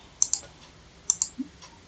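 Computer keyboard keys clicked in two quick pairs, as for a copy-and-paste shortcut, followed by a softer tap; crisp, close and fairly quiet, with no talking.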